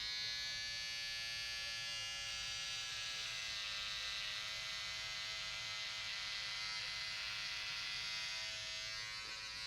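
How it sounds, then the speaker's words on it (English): An electric razor shaves through long hair, a loud, close, steady buzzing drone with a bright whine that holds throughout and strains slightly as it bogs in the hair, with no talking. "I have to hold the mirror with my right hand and shave with my left."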